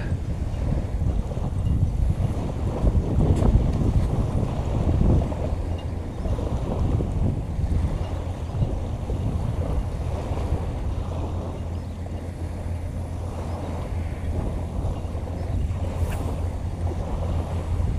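Strong wind roars at sea beside a small fishing boat setting crab nets baited with shrimp, with steady loud buffeting and wave wash throughout, no talking.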